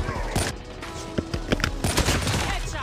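Sniper rifle shots from the mobile shooter Call of Duty Mobile ring out as several sharp reports amid busy in-game noise. More gunfire crackles in the background.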